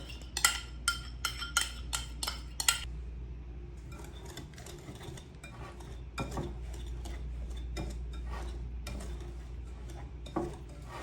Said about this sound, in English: put in your butter, and then you're gonna give it a good stir